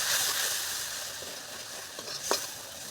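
Spices sizzle in hot oil in a pan as turmeric and chili powder are fried for a fish curry, a steady close hiss with occasional stirring scrapes, no talking.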